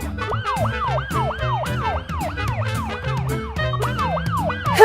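An ambulance siren in a children's cartoon wails in a steady, loud cycle of rising and falling sweeps over a busy background, with no talking.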